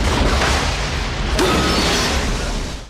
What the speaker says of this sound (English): Waiting for the thunder.